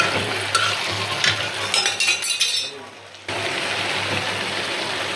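A spoon works masala around a frying pan, sizzling steadily with light scraping and clinks, close up, for a curry of rui fish with flat beans; the frying cuts out briefly before resuming.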